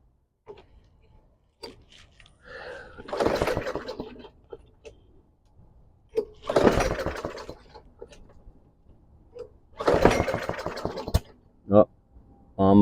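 A Troy-Bilt TB105B walk-behind lawn mower engine sputters through several pull-start attempts, each a short rough burst that dies away, ending in a sharp backfire pop; loud and close with quiet gaps between tries.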